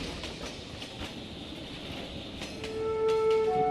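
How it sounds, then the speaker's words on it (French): A tram runs through Changchun city centre, its rolling rumble and rail clatter steady throughout, with a sustained wheel squeal rising near the end. "Le tramway numéro 54 parcourt le centre-ville en 16 arrêts."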